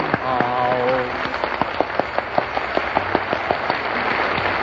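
A studio audience applauds at a 1938 radio broadcast, a dense crackle of clapping in thin, old-sounding recording, with a brief tonal voice or musical phrase at the start.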